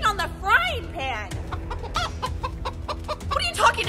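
A chicken clucks in a string of short, close, fairly loud calls against a steady background hum, with no clear speech over it.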